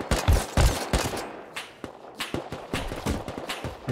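Rapid gunshots crack in the survival game Rust, a close, loud string of sharp bursts with uneven gaps, some shots landing in quick doubles.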